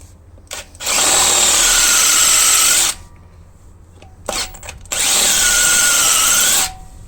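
A power drill bores into an anti-theft wheel nut in two loud sustained bursts of grinding whine of about two seconds each. Brief clicks and quiet pauses come before and between them.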